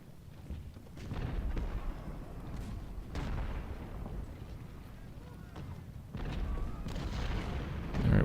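Civil War cannon fire in Ultimate General: Civil War rumbles as a series of low, distant booms and rolling battlefield noise, with someone talking over the combat.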